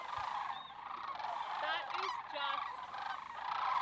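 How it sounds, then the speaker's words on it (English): Canada geese honking overhead as a flock flies south for the winter above a National Park campground, a series of calls moderately near, with no talk over them. "flocks of geese over my head."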